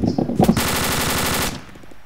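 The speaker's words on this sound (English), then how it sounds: "I'm currently firing rounds into that house, as you can see on the right." Video-game gunfire suppressing a house: one rapid, loud automatic burst of about a second, with a short shot just before it and a fading tail after.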